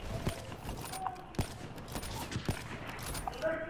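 Gunfire in Black Ops 3 multiplayer: a few separate sharp shots at irregular intervals over a steady game background, fairly quiet and without speech over them.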